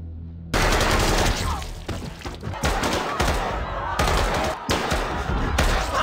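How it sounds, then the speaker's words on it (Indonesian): Guards open fire in a film scene, a dense, loud burst of rapid gunshots that rolls on almost continuously after a sudden start, with brief dips between volleys. "Ketika waktu habis, para penjaga menembak tim yang salah jumlah tersebut"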